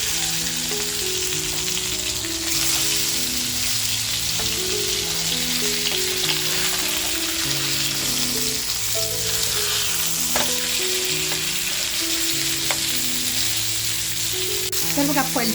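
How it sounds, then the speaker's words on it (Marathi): Pomfret stuffed with prawns frying in hot oil in a pan over a high flame, a loud continuous sizzle with occasional crackles and spatula scrapes, close up and steady throughout. "फास्ट फ्लेमवरती आपण याला फ्राय करून नंतर मग स्लो फ्लेम करूया"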